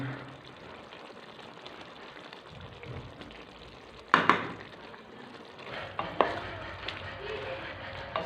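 Fresh coriander and dried fenugreek are stirred into a simmering potato and pea curry, with soft scraping and a low sizzle and two sharper clatters of a spoon against the pot.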